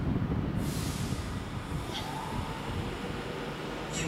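A ten-coach Pendolino train rumbles past at close range at Crewe station with a dense low roar, and faint wheel squeals and hiss rise above it.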